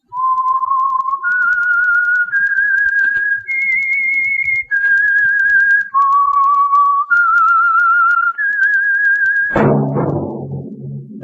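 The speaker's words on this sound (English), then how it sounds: "That whistle is your signal for the Signal Oil program, The Whistler." Theme of The Whistler radio program, a clear, loud solo human whistle of eight sustained notes in a slow rising and falling melody, ending in a sharp, resonant struck sound that rings away.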